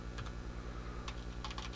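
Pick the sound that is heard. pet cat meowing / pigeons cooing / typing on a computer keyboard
typing on a computer keyboard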